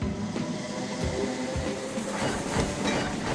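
A train rumbles steadily along in the game Train Crisis, a low continuous rolling roar with faint rhythmic clatter and hiss, fairly loud and unbroken, with no voices over it.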